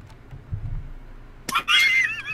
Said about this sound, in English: I've named your horse Sea.